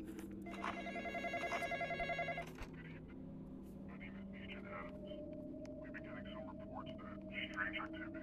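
A telephone rings in a video game with a loud, repeated electronic bell trill over the first few seconds. A steady low hum follows and carries on to the end.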